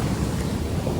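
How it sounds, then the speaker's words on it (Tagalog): Ocean waves on the beach at San Felipe, Zambales, a steady broad rushing wash of surf mixed with wind rumble, close and constant. "Wave after wave."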